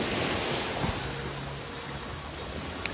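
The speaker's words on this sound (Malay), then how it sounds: "layan jalan tepi laut ni, dengar bunyi ombak." Ocean waves wash onto the seashore at Koh Lipe, Thailand, in the evening, a steady, broad, even surf roar that fills the whole clip with no voices.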